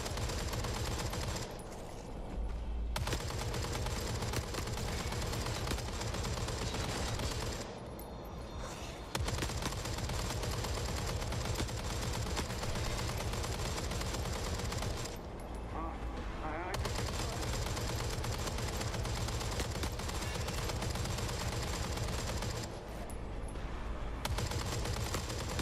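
Sustained 9mm gunfire in the Forever Winter shooter game, a dense continuous stream of rapid shots with brief pauses between bursts, loud and close throughout.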